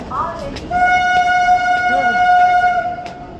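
A train at a railway station sounds a loud, sustained horn blast over rumbling platform noise, with people talking nearby.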